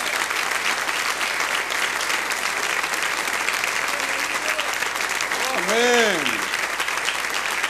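Congregation applauding in a Chilean tabernacle church service, with dense sustained clapping throughout and a voice speaking over it.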